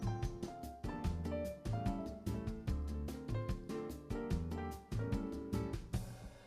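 A Yamaha Genos2 arranger keyboard plays its medium-sized intro 2: a full, loud band pattern with steady drum hits, bass and chords in a bouncy rhythm, ending on a ringing final chord.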